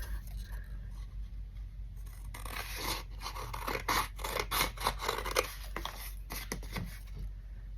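Scissors snip through paper for a junk journal, a close series of crisp, irregular cuts and rustling scrapes over a faint steady hum.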